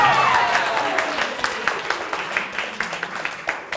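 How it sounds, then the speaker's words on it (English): A round of applause at a youth leadership event, with claps that start as a dense burst and thin out into scattered, distinct hand claps with a faint voice or whistle early on. "round of applause"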